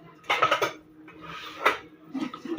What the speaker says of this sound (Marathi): फायनली आता भांडे धुवून होत आहे.